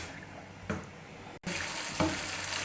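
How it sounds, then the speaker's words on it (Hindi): Fresh khoya roasts in a pan with a steady close sizzle and soft scraping stirs, one brief dropout midway, no talking. "ये बिल्कुल ताज़ा और फ्रेश खोया मैंने लिया है और इसको मैं भूनने लगी हूँ"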